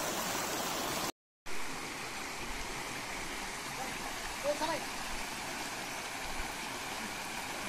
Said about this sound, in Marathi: पाण्याचा आवाज खळखळणारा पाण्याचा आवाज